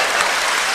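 Audience applause at a live talk, a dense steady wash of clapping filling the short moment without any voices.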